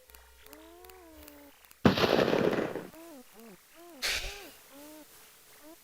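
Two loud, close gunshot bursts fire in the Police Quest 3 game, each a sharp crack with a short ringing tail, about two seconds apart. Cat meows sound before, between and after them.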